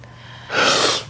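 A single loud, close sneeze bursts out after a quiet moment, a short sharp inhale followed by a forceful breathy blast that trails off.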